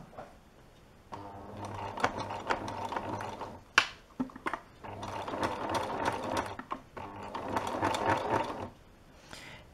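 A sewing machine stitches through cotton and PUL fabric in close, whirring, ratcheting bursts, running in three main stretches with short pauses between them and a sharp click in the middle.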